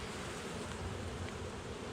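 Dense, steady buzzing of many honey bees at close range as a hive is opened for inspection, a continuous droning swarm sound with no voices.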